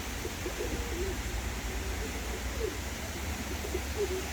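A tumbler pigeon gives low, rolling coos several times over a steady outdoor background hum, fairly faint and somewhat distant.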